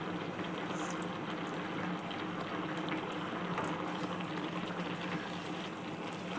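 Cabbage and carrot kootu bubbling in a pot, with a steady, dense simmering hiss and soft bursting bubbles, close and continuous, no talking.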